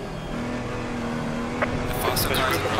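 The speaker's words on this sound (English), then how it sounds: "The faster car's bearing down on you." Race car in a multi-class endurance racing game at the Nürburgring sweeps past the player's car, a steady engine drone swelling into a brighter, louder rush near the end, with game engine noise and a spotter's voice nearby.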